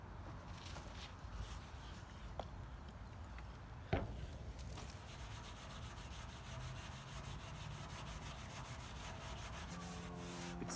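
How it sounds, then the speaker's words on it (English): Continuous scratchy rubbing of fine steel wool on a metal car fender, close and steady, with a brief sharper scrape partway through. "now I'm going to go over it with some really fine steel wool first and just clean it all up"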